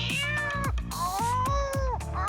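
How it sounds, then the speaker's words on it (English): Several hungry cats meow under a table, a run of loud, close, drawn-out meows overlapping one after another. "There's a whole pack of hungry cats under the table."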